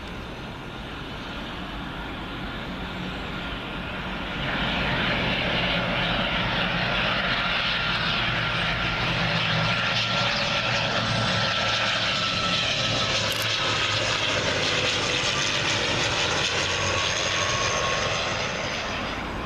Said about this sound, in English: Got a prop coming in now. Logan Air ATR 42-500 in from Dundee